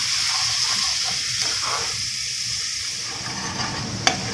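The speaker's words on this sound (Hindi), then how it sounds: "अब जो हमारे मसाले हैं भून गए हैं" Spices fry in a pan over a high flame for chole chaat, a steady loud sizzle and hiss with soft stirring scrapes and a single sharp clink near the end.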